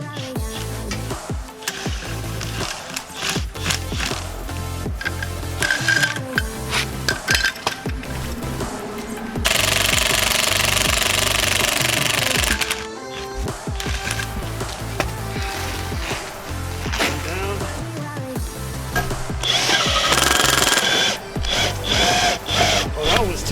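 A BeadBuster XB-550 bead breaker forcing the bead off a big tire, with loud scraping, creaking and clanking metal-on-rubber strain, bursts of harsh hiss, and someone talking intermittently throughout.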